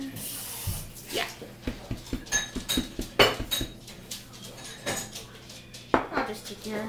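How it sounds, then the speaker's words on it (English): Dishes, plates and cutlery are gathered up after a meal at home, giving a run of irregular clinks, clatters and scrapes, some sharp and close, while people talk over them. "Would you start helping out with gathering up the dishes?"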